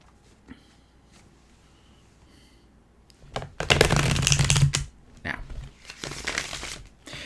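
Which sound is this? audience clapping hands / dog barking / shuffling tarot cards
shuffling tarot cards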